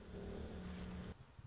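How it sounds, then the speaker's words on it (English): ATV engine in the video game ARMA 3, a low droning motor hum with a steady tonal whine approaching for about a second before cutting off, with no talk over it. "An ATV coming up to us now."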